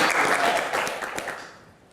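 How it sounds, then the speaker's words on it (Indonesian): An audience at a Q&A session claps in a brisk burst of applause that fades away within a couple of seconds. "tepuk tangan"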